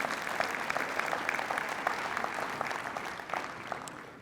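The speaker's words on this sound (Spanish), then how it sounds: "Den un aplauso al Señor," Congregation in a church applauds steadily, a soft, even wash of many hands clapping heard from a distance at low volume, tapering slightly at the end.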